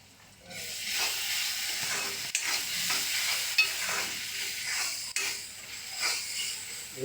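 Ginger garlic paste sizzles and fries in a hot pan while a spoon stirs and scrapes through it, giving steady hissing with periodic scraping strokes, up close and with no talking.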